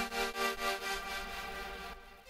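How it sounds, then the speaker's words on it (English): Sustained synth chord hit with a fast, tight LFO wobble pulsing through reverb layers, a steady rhythmic tremolo that smears into a washy tail before cutting off; loud and alone, no talking. "you can hear you get a nice tight wobble"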